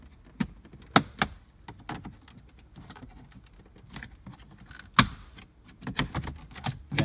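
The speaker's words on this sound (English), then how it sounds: "Again, a lot of snapping." Plastic trim panel on a GMC Canyon or Chevy Colorado being pried off, its snap clips popping loose in a series of sharp, loud cracks and snaps with scraping and rattling between them, close up and without talk.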